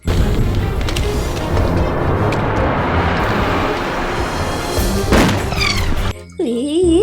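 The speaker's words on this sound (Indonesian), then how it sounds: "mainan tembak-tembakan" A plastic toy gun fires a continuous loud, rattling, crashing burst of electronic shooting effects for several seconds, then cuts off into warbling, sweeping siren-like tones at the end.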